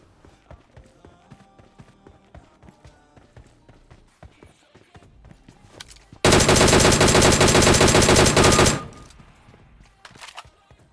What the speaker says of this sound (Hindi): अब जैसे ही फायर होता है मैं वहाँ पर अट्रैक्ट हो जाता हूँ और मैं उसकी तरफ चलने लगता हूँ